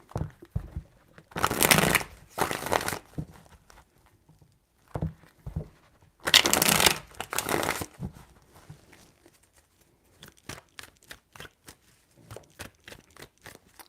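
A tarot deck being shuffled in several bursts of riffling and papery flutter, with pauses between them, followed by a run of sharp, evenly spaced card taps, close and fairly quiet.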